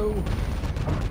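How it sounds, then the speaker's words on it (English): Gunfire in the Warzone shooter: a close burst of loud, rapid gunshots that fills the short moment. "I'm taking fire."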